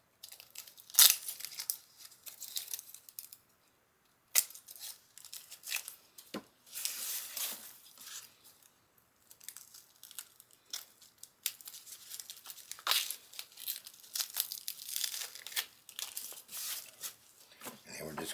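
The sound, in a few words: peeling onion skin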